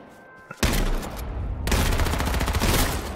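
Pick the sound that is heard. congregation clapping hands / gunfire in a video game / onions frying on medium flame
gunfire in a video game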